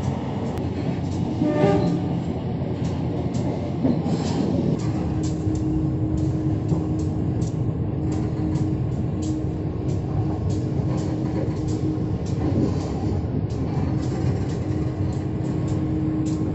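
Interior of the KA Lokal Bandung Raya local train running between Rancaekek and Cimahi, a steady close rumble of wheels and carriage with a faint tonal hum, continuous throughout with no voices.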